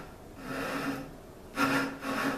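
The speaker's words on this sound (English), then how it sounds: "All I'm going to do is use my back saw" Back saw cutting through wood held in a vise, with several rhythmic rasping strokes, quiet and close, stroke noise rising toward the end.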